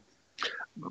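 A single short sneeze, sharp and close, followed by a brief softer breathy sound.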